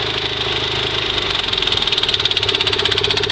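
A Mighty Mite bandsaw mill engine idles after being throttled down, a steady close mechanical chug with a regular pulsing beat that grows slightly more pronounced.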